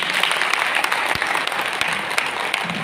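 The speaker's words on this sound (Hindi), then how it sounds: "तो आपकी तालियां बता रही हैं कि प्रोडक्ट पसंद आए हैं" An audience at an inverter product launch in a Delhi hotel applauds with sustained, dense clapping that stays loud and even throughout, without speech over it.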